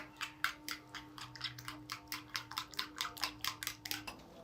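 A spoon stirs sandwich filling with spice in a bowl, giving a quick run of sharp, close clinks and scrapes in an uneven rhythm that stops just before the end.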